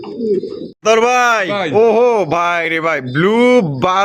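Pigeons cooing up close at a seller's loft, loud, rounded calls rising and falling in a quick series, with a short gap near the start.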